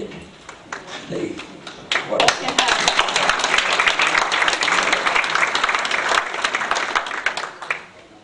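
Audience applause fills a cinema arts centre after a film screening, a dense wash of many hands clapping that swells quickly, holds steady for several seconds, then tapers off.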